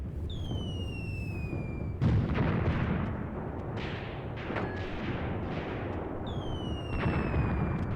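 Artillery fire booms through a WW2 battle on the Volkhov Front in Graviteam Tactics, with dull rumbling blasts and thuds under a continuous battlefield din, plus descending whistling shell sounds at the start and end.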